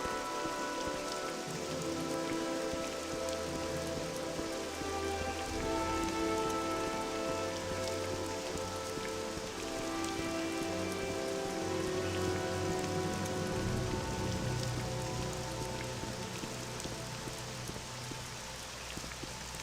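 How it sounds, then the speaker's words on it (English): Steady rain pours down in the video game Morrowind, a continuous dense hiss of drops with a low background drone running beneath it, loud and even throughout with no voices. "It's been raining all fucking day."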